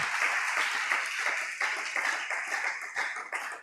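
A church congregation applauds for Jesus in sustained, dense clapping from many hands. The clapping is close and loud, with small surges throughout, and no one speaks over it.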